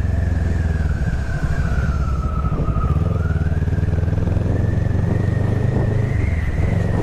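A motorcycle rides along a neighbourhood city street at around 60 km/h with a loud, steady engine drone and a whining tone that rises and falls slightly, heard from the rider's position with wind rumble and no talk.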